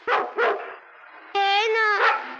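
A dog in a dramatic film scene gives two sharp, close barks, then a drawn-out, whining, tonal cry follows.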